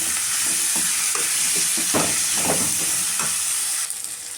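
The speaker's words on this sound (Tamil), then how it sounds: "நல்லா வதங்கட்டும்" Potato, broad beans and drumstick pieces sautéing with mashed tomato in a pan for a dried fish curry, giving a steady close sizzle and hiss with soft stirring scrapes throughout.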